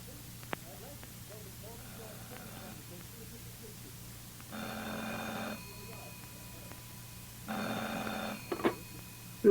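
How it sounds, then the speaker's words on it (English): An old-fashioned telephone bell rings twice in long bursts in a quiet room, faint at first with soft voices before the rings. "the phone rang."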